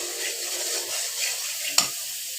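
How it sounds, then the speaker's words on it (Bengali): Powdered spices with panch phoron, turmeric and chili being fried and stirred in a pan for a fish curry: a soft continuous sizzle, with a single sharp spatula scrape or knock near the end. "মশলাটাকে আমি ভালো করে কষিয়ে নিছি।"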